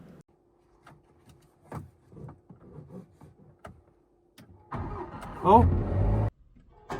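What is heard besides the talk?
Jaguar F-Type engine starting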